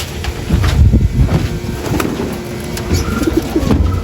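Racing pigeons, including a young blue bar bird, cooing in low, rolling murmurs that overlap continuously, close by, with faint rustling and shuffling in the background.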